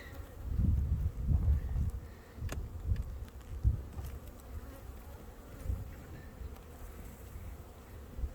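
Honey bees of a weak spring colony buzz close during a hive inspection, a faint continuous drone with louder passes as bees fly near, alongside occasional handling knocks.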